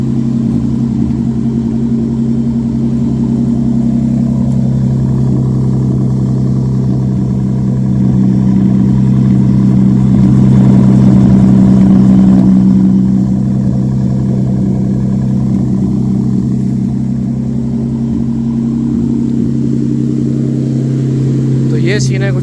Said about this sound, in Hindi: फिर इसको ज़रा थोड़ा सा आपको इसका शोर चेक कराता हूँ गाड़ी का